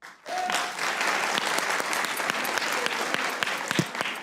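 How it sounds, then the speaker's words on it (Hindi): Studio audience applauding at a Pakistani TV comedy show, a steady dense clapping that holds loud and even throughout, with a few sharper individual claps standing out. "तालियां बजाएं"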